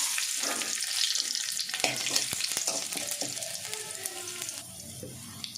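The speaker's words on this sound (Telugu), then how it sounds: "హీట్ అయిందండి ఆయిల్. ఇలా పోపు దినుసులు అనేది వేసేసుకోవాలండి. ఇలా చిట్టపట్టిన తర్వాత" Mustard seeds and other tempering spices crackling in hot oil for a Telugu cucumber chutney, a dense run of sharp pops and spits over a steady sizzle, close and fairly quiet, easing off toward the end.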